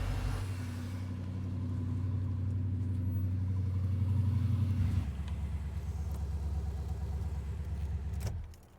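The engine of a 1996 Impala SS idles with a steady low rumble after a jump start. Its tone drops partway through, and then the engine is switched off and goes quiet near the end.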